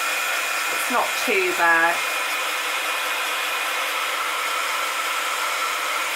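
A second-hand heat gun runs as a steady broadband blowing hiss that holds at an even level throughout. A few short squeaks and a brief voice sit over it near the start.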